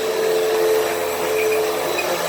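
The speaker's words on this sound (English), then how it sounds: "This vacuum has no auto brush shut" A Hoover WindTunnel vacuum cleaner picks up natural dirt, its motor giving off a loud, steady whine with a constant tone and a gritty rattle of debris being sucked in.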